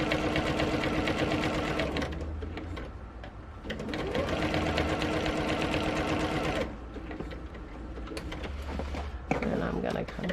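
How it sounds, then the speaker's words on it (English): Sewing machine stitching down the long side of a decorative pillow case, a steady close whirring run that pauses briefly twice, with someone talking over it at times. "It's all sewing all the way down, and then we're going to turn our corner."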